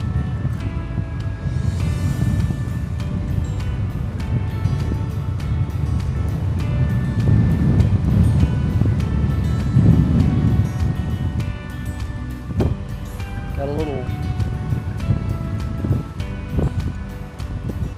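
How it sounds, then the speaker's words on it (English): Strong wind buffeting the microphone while riding an e-bike through a residential community in Fort Myers, a loud continuous low rumble with faint mechanical whir underneath and no voices. "Got a little wind in my face right now"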